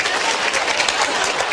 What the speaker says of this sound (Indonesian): Berarti tepuk tangan untuk Cak Nun.